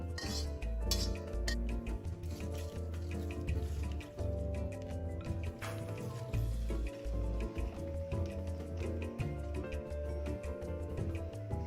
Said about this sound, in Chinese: 再拌匀